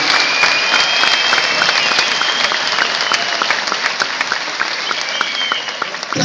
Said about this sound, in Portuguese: Uma salva de palmas para Uzi.